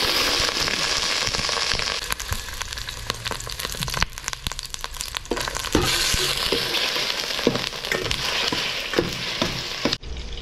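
Oil and beef tallow fry steadily in a dorm-kitchen pan, a dense continuous sizzle with crackling pops and occasional stirring scrapes, close and fairly loud with no talking.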